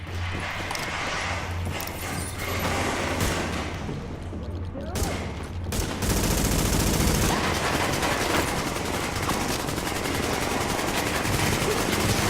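Rapid automatic gunfire rattles continuously in The Division beta as a player shoots through a broken section of wall, dense repeated shots growing louder and steadier in the second half.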